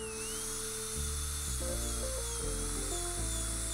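High-pitched dental drill whine from a 48L multiblade bur finishing composite resin veneers, a steady piercing tone that stays loud and continuous with small shifts in pitch as pressure on the tooth changes.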